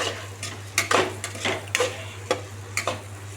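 Masala, chilli and soy sauce being stirred in a pan, a soft sizzle under repeated scraping strokes of a spoon at an uneven rhythm, with a steady low hum throughout and no voices.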